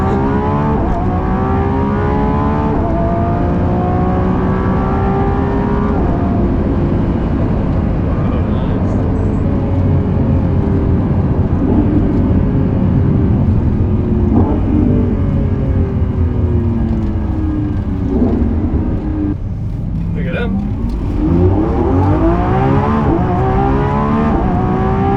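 A hypercar on 355 rear tyres accelerates hard down a straight, its engine climbing through rising gear sweeps for about 25 seconds, loud and close, with a short shift break near the end.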